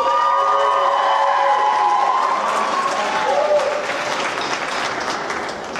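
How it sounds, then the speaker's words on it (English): Marching band members applaud at a high school marching band season event, loud crowd clapping mixed with some cheers and voices, with a few sustained tones early on before the clapping eases slightly. "I'd like the band to give them a big round of applause right now,"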